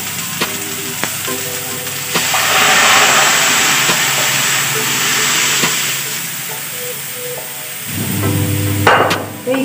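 Dal hits hot tempering with tomato in a pan for dhaba-style dal fry and sizzles loudly and steadily, with metal clinks and stirring scrapes, then a fresh surge of frying near the end.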